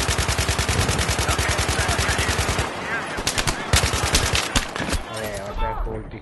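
Rapid automatic gunfire in the shooter game Battlefield 3 on the Seine Crossing map: a steady burst of close machine-gun shots runs for over two seconds, then scattered single shots and short bursts follow, with faint voices underneath.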